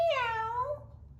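A voice imitates a cat's meow while singing a nursery rhyme about farm animals: a single clear, drawn-out meow with a falling pitch, close and fairly quiet.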